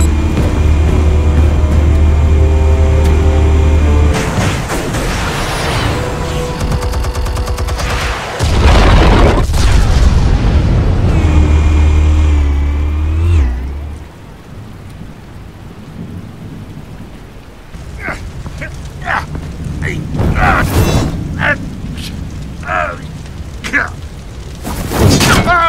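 Explosives detonate in the Batman Telltale Series video game, heavy rumbling booms and roaring blasts filling the first half, then fading into crackling debris and scattered impacts.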